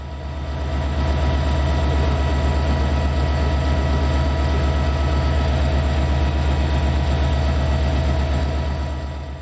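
Ex-Dutch Class 3200 diesel multiple unit, now Class 78-32, pulling away on a service bound for Ploiești, with a steady loud rumbling diesel drone and rhythmic rail clatter sustained throughout, no voices.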